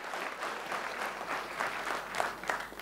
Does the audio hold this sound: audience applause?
yes